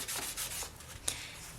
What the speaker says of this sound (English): So I'll bring over my polishing papers, which is what I always use. And I'll just start sanding along the sides.